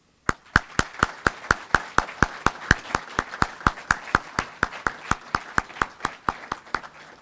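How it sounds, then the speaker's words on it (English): Clapping for award recipients at a regimental awards ceremony, a loud, sharp, evenly paced run of about two dozen claps that stays steady throughout. "please join me in one final round of applause for all our recipients this evening"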